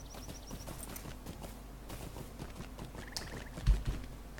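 A pony's hooves clip-clop at a walking pace in the online game Lord of the Rings Online, soft and fairly distant under faint game ambience, with a brief thump near the end.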